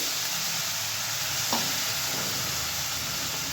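Potatoes fry in a pan with a loud, continuous sizzle as a splash of water goes in, brief and sharp partway through, and then the hiss carries on close by, with no talking.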